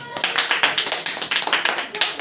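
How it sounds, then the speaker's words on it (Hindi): Village children clapping their hands together in a loose rhythm, a string of close, sharp claps at a fairly quick pace with no one talking. "अच्छा बस ताली मारिए"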